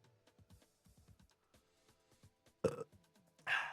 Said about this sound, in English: That little burp's for you guys.